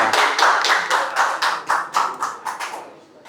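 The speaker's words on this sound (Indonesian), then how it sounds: "tepuk tangan untuk kita semuanya." An audience at a panel discussion on forming a national exploration agency for mining claps in a strong, rhythmic unison beat that slows and fades over a few seconds.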